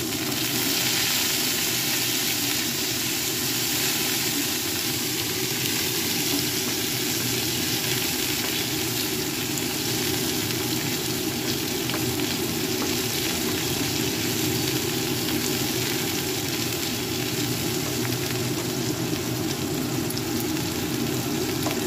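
Bitter gourds fry in oil with tempered whole spices, giving a steady, even sizzle and hiss that runs unbroken and fairly loud throughout, with no talking.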